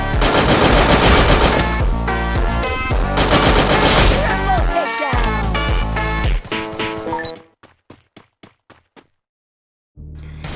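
Rapid bursts of gunfire in a shooter video game as an enemy is knocked down with a headshot, loud and dense at first, then thinning to a few sharp isolated shots before silence and a short final burst.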